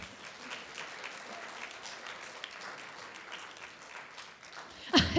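Audience applause after an opera recital of Verdi and Wagner arias, a steady patter of many hands clapping throughout, moderately loud, with a louder burst near the end.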